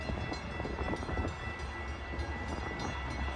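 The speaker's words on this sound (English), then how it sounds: "Milwaukee West Main Line train number 2225 to Big Timber is now arriving." A Metra Milwaukee District West commuter train pulls into a suburban station, a steady loud rumble of railcars rolling close by with a faint horn tone running through it.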